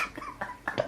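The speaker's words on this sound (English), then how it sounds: "Sorry, I coughed through that." A person coughing close to the mic: a few short, rough bursts spread across under a second, faint and dry.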